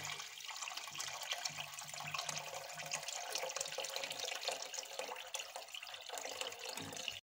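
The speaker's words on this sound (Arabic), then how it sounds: "دابا غادي نزيدوها الماء" Water being added to a cooking pot of lentils, fava beans and fenugreek for Moroccan chicken trid, heard as a steady close rushing pour that runs unbroken throughout, with no talk.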